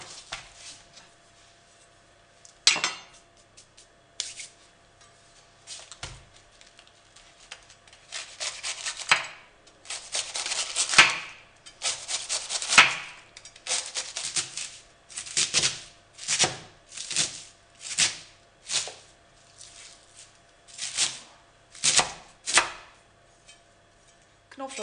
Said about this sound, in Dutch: Intussen snijd ik even de kool in reepjes.